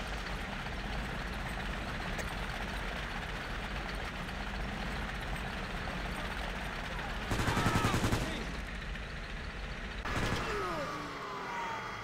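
Machine gun fire in the WWII strategy game Men of War: Assault Squad 2, set on the Mariana Islands, rumbles steadily under battlefield noise, with a louder dense burst near the middle and another shorter burst toward the end.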